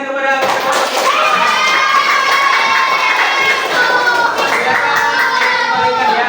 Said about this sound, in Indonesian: Ayo semuanya beri tepuk tangan kepada